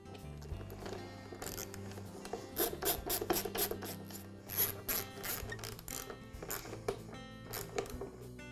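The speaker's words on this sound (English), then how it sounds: "now I'll reinstall the front pump cover" Front pump cover being refitted on a Campbell Hausfeld air compressor: a quick run of sharp ratcheting clicks and scraping rasps, close and fairly quiet, with short gaps between bursts.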